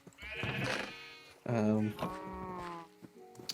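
Minecraft sheep bleating in the video game, a baby sheep among them, several wavering bleats in a row under someone talking.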